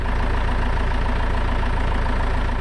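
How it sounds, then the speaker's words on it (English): An engine idles steadily and loudly, a continuous low guttural rumble with no change in pace. "something as basic as like an engine idling, just something guttural"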